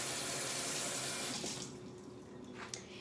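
Water runs from a kitchen tap as a head of cabbage is washed in the sink, a steady hiss that softens midway, then splashes faintly as the stream hits the leaves.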